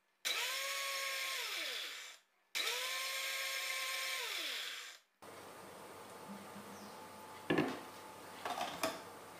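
A kitchen blender whips homemade mayonnaise with salt added, running in two loud, steady bursts of about two seconds each whose pitch drops as the mixture thickens, followed by quieter clatter and handling.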